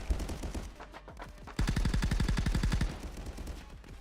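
Automatic gunfire from a VR Call of Duty game bursts in rapid, rattling strings, with one long sustained volley in the middle and scattered shorter bursts around it, loud and close with no voices.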